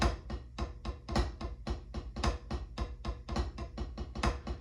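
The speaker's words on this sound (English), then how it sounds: "With the flam paradiddle, it's going to sound like this." A flam paradiddle on a drum practice pad, sharp dry taps in a steady repeating pattern with accented grace-note strokes, close and alone.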